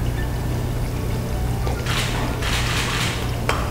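Heavy cream poured into a pan of thick, creamy mixture on the stove, a soft liquid pouring and trickling heard close up in a few short bursts over a steady low hum, with no talking.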